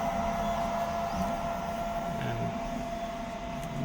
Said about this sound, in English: finally it's extruded through a nozzle, and that's how the printing happens.